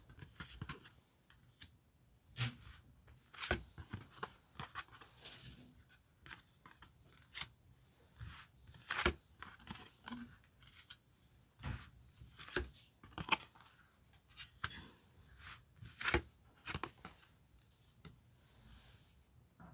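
Tarot cards handled and picked out one by one during a five-card spread, a long run of irregular crisp snaps, slides and rustles close by with short pauses between, no talking.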